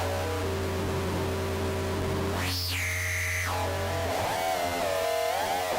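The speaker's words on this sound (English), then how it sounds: "as I get like some really harsh tones, as we play with the symmetry of the distortion" Harsh, buzzing distorted synthesizer tones from an Alchemy Lab Autophage distortion, with a droning low hum and a piercing high sweep midway that shifts color as the distortion symmetry is pushed up and down, heard alone.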